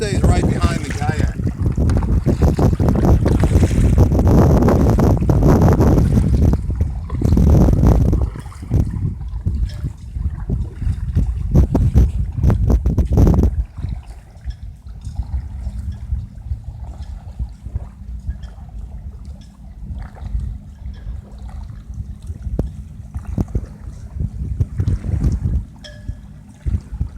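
A kayak moves across open water towing a beer sled, with paddle splashes and water swishing over strong wind buffeting the microphone at first, then quieter lapping and rushing water for the rest.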